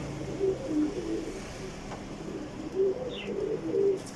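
Pigeons coo in soft, low, repeated phrases at a moderate distance, with a faint background hum and a brief chirp between the calls.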